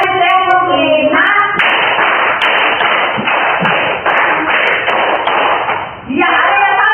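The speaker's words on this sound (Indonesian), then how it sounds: "Tepuk 1, tepuk 2, tepuk 3," Classroom of students clapping together in a counted pattern, a dense burst of sharp claps lasting several seconds, close and loud, with voices talking before and after it.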